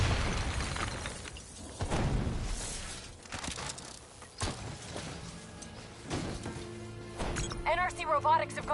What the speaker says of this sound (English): They're about to detonate!